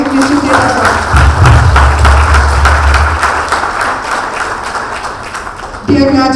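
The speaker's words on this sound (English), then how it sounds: "each one of you truly deserves a big round of applause." Applause rings out for faculty members at a graduation ceremony, a dense sustained clapping lasting most of the clip with a low rumble early on, before a voice resumes near the end.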